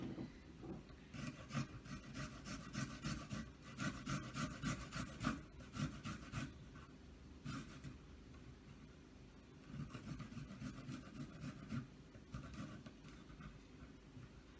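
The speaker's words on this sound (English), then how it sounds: "again we're going to grate the garlic" Garlic is rubbed against a grater for a simple stir fry, with rhythmic rasping strokes in quick bursts and short pauses, close up and quiet with no talking.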